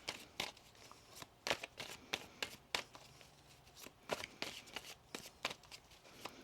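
Quick riffling bursts of tarot cards being shuffled, repeated about a dozen times in an uneven rhythm, close and crisp with no talking.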